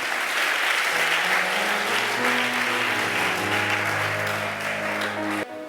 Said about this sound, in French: Acclame Jésus pour cela, acclame Jésus.